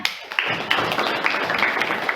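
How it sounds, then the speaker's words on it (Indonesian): Classroom of trainee teachers applauding after group presentations, a steady dense clapping wash from many hands with a few sharper claps standing out, fairly close and sustained throughout. "Beri tepuk tangan."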